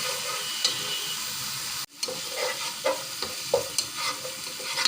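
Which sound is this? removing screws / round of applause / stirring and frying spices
stirring and frying spices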